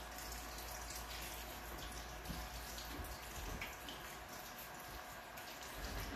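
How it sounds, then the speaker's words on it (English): Water pours and trickles into small seedling pots during indoor seed starting, a close, continuous splashing with soft gurgles and no talk. "And get a little bit more water in these."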